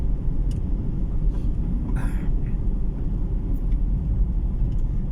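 Tricycles and other street traffic pass through Kabankalan City in the Philippines, a loud continuous low engine rumble with occasional brighter rattles and a short burst near the middle.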